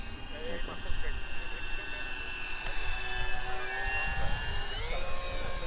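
A model twin-engine airplane's high, steady whine passes nearby in a fast pass, its pitch shifting as it goes by, with constant buzzing and no talking.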